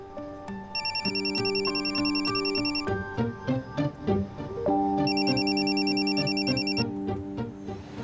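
A telephone ringtone plays a repeating electronic melody with bright chiming accents, moderately loud and steady, in a domestic scene from a Marathi TV serial, with no voices over it.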